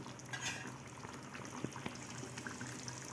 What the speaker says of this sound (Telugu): చూసారు కదండి ఇలా ఉడుకుతూ ఉంది